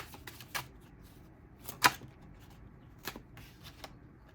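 Tarot cards being shuffled by hand, a series of quick soft riffles and taps at close range with one sharper snap in the middle, alone without talking.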